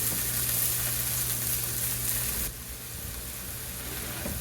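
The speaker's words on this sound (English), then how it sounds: "We're gonna put the rest of these peas in and let these cook for a minute or two and just kind of get the ice off of them" Frozen peas sizzle and crackle in a hot pan, a steady bright hiss with a low hum beneath that drops slightly in level partway through as the frying settles.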